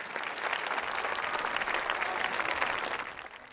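Graduation ceremony applause for student speakers rises from a high school audience, a brief, fairly soft round of clapping heard at some distance that swells and then tapers off.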